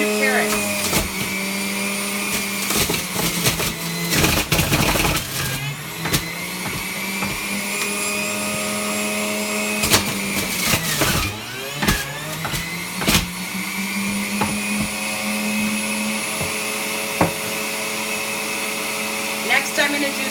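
A juicer running on its second setting whirs loudly as carrots go through, a steady motor drone with repeated harsh grinding bursts and brief dips as each piece is fed, while someone talks over it.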